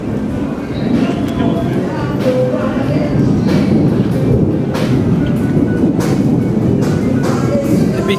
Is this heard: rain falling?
no